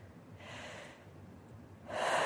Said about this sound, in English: Let's take 2 more deep breaths